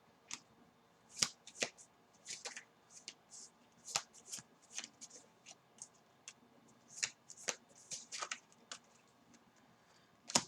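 A tarot card deck is shuffled in repeated quick riffles and slaps, sharp crisp bursts at irregular intervals, close and fairly quiet with brief soft voice in between.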